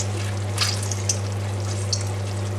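Prawns sizzle in a hot pan as they are stirred, a steady soft frying hiss with a few light scraping clicks over a constant low hum.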